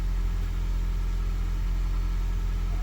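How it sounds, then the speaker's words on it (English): A Toyota Prius engine idling while under diagnosis for overheating, with trouble codes P261B and P0A0F and a water pump fault, giving a steady low hum and rumble with no change in speed. "as you can see the engine is running"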